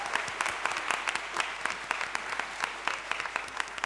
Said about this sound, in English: And one more round of applause for Dan Faston!